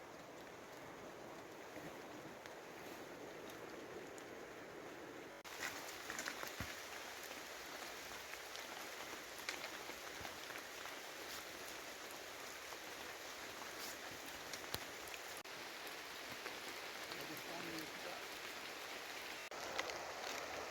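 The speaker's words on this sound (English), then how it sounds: "And it's raining." Rain falls steadily on the Pennine Way near the River Tees at Middleton in Teesdale, a soft continuous patter and hiss, quiet and even, with a slight rise in intensity partway through.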